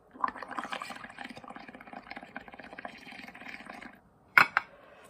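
Continuous bubbling gurgle of air blown through a straw into liquid, steady for several seconds, then stopping before two sharp clinks of a glass or utensil.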